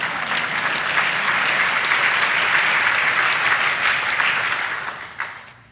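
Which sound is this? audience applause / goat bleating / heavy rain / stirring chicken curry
audience applause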